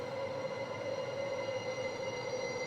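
A sustained high metallic squeal over a low rumbling roar, like a subway train braking, steady and fairly loud throughout.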